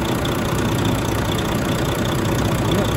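A rebuilt Volvo FH 460 truck's D13C diesel engine idles in a workshop, giving a steady, close, continuous rumbling drone with no voices over it.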